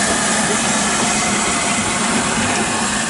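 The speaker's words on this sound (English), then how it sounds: "That's it, she's decoupled from the coaches, she's going." LMS Black 5 (5MT) steam locomotive 45407 Lancashire Fusilier on the Jacobite line pulls away after uncoupling from its coaches, giving a loud, steady broadband hiss and rumble of steam and motion with no clear beat.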